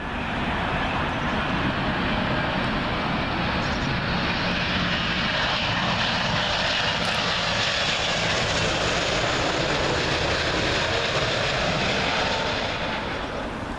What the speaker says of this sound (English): Up next, United Airlines Star Alliance 777 livery.